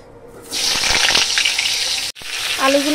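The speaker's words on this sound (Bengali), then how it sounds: "এবার আলুগুলো না আমি একটু ভেজে নেব আগে" Potatoes frying in hot oil in a kadai, a steady close sizzle that bursts in after a quiet start, breaks off for an instant, then resumes with a faint tonal hum toward the end.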